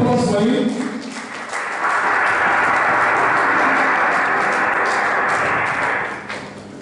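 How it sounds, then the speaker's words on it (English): Audience applause for the Oluwo of Iwo land, honoured as African Monarch of the Year 2021, a loud sustained wave of clapping from a large crowd that swells after a brief start and holds steady before tapering. "Please a round of applause for you."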